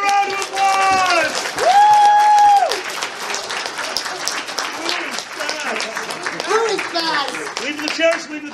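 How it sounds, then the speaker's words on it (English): An audience at a charity event at a furry convention claps and applauds steadily for several seconds, with voices and shouts over the applause. "give them a round of applause!"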